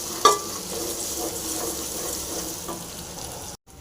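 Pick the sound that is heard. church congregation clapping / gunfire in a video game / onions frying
onions frying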